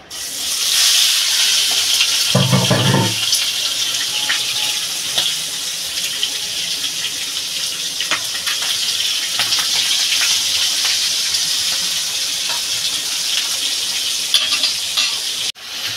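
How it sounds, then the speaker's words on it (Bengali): Singi, stinging catfish, fry in hot oil with a loud, steady hiss and crackle that starts abruptly and sizzles on without letup, with a brief low rumble early on and no talking. "তেলটা আমার গরম হয়ে গেছে। মাছগুলো আমি ঢেলে দেবো।"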